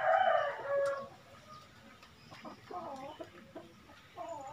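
Village chickens in a farmyard, with a rooster crowing loudly at the start and hens clucking in short repeated calls afterward, fairly close.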